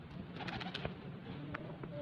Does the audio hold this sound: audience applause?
no